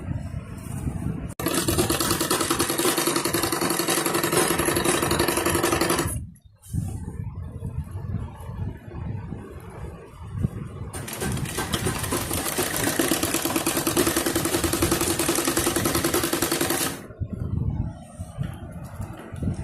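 A sewing machine stitches lace onto a dupatta in two long, steady runs of close, loud whirring, separated by a short pause with faint handling sounds.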